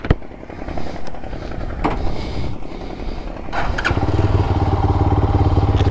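A motorcycle rides along with a steady, rumbling engine that grows louder and more even toward the end, heard up close with no talking.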